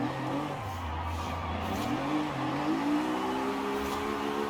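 A beat-up car's engine in the video game Forza Horizon revs high and rises in pitch as it accelerates, with a rough, strained tone heard from inside the car.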